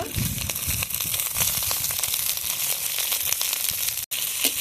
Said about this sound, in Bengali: এখন সব কিছু ভালোভাবে ভেজে নেব শুকনো